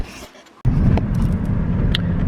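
A car drives along the road, heard from inside the cabin as a steady low engine and road rumble that surges in suddenly after a brief quieter moment, with a few light clicks on top.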